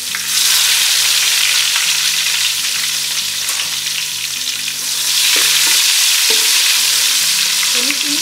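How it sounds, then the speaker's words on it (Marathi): Tomato pieces frying in ghee for shahi mutton biryani give a loud, steady broadband sizzle. Faint background tones run underneath, and there is no talk. "मी याच आता तुपात टोमॅटो घालते"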